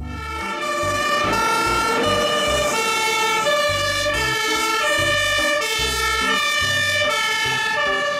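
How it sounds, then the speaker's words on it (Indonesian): A continuous electronic siren wails steadily with a looping, tinny toy-like tone, loud and close, with no voices. "Mobil truk pemadam kebakaran."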